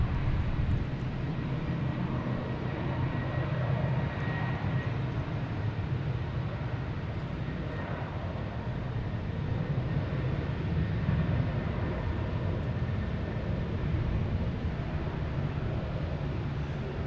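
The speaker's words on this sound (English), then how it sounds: "We also got the Sun Country special livery taking off right now" A Sun Country airliner in special livery takes off at Boston Logan Airport, a steady broad jet roar that holds at a constant level throughout, distant and without distinct peaks.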